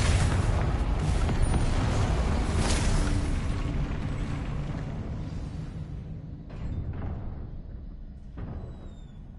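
A Confringo spell blast in Hogwarts Legacy on PS5 gives a loud, dense rumbling boom that fills the first seconds and slowly fades, with a smaller burst of debris-like noise later.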